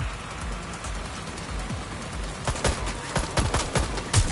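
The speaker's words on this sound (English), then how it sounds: "I'm taking fire!" Video game gunfire from Watch Dogs Legion, with steady automatic bursts and sharp shots crackling over a dense combat din, growing louder and more rapid in the later seconds.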